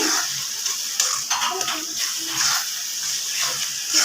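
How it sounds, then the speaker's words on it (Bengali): Chicken with fennel seed and salt frying in a pan over medium heat: a continuous bright hiss and crackle of hot oil, fairly close and even, with faint soft bumps under it. "এখন ভালো করে ভেজে নিতে হবে যেহেতু আমি মিডিয়াম আঁচে রেখে দিয়েছি"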